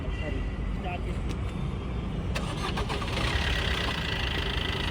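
A Maruti Ertiga 2018 VDI SHVS diesel settles into a steady, rumbling idle close by, with a few faint clicks and knocks over the drone while someone talks nearby.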